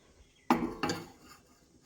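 A cooking pot set down on a gas stove while making spicy sweet corn, giving two close metallic clanks about a third of a second apart, then a faint trailing rattle in an otherwise quiet kitchen.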